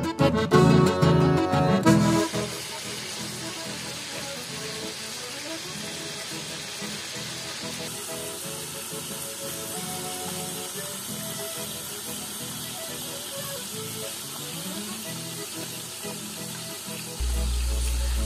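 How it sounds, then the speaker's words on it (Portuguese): Sheep spine fries in a pan with a steady, even sizzle that lasts throughout, preceded by a short louder burst of clatter at the start, with no clear speech. "já deixo cozinhando até terminar a fritura desse nosso espinhaço de ovelha"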